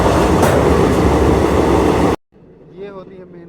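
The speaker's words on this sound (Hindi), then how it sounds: "आपको इम्पॉर्टेंट ट्रेन निकलती हुई दिखेगी" A long-distance train passes at close range on a four-track main line in India during heavy evening rain, a dense, loud roar that cuts off abruptly, leaving faint talk in the quiet afterward.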